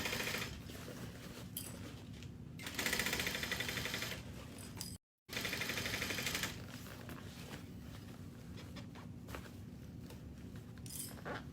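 A sewing machine stitches a bag through existing stitching, running in quiet mechanical bursts with a brief pause between runs.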